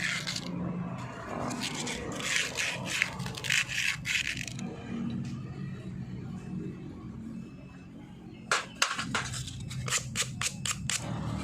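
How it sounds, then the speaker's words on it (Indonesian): Sandpaper rubbing on a sticky rear disc brake caliper part in rapid back-and-forth strokes, first in a dense scraping run, then after a pause in a quicker series of distinct rasping passes, close and with no talking. "setelah itu langkah kedua adalah dengan cara diamplas bagian sini"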